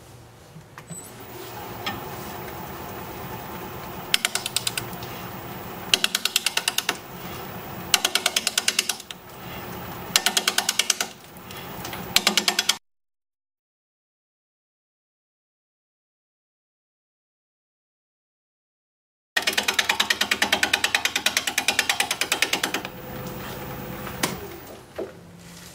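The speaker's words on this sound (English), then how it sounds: "Now it looks like we're going to be turning at about 600 RPM. I'm going to grab a 5/8 inch bowl gouge" A wooden bowl spinning on a wood lathe at about 600 RPM while a 5/8 inch bowl gouge cuts it, producing loud, rough bursts of chattering cuts with brief pauses, broken by a long silent gap midway before the cutting resumes.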